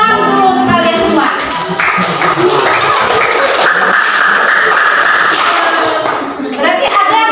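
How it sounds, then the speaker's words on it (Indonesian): A classroom breaks into applause, a dense, steady wash of many hands clapping that carries on for several seconds at close range, with children's voices mixed in underneath before it tapers off. "Ya, tepuk tangan dulu untuk kalian semua."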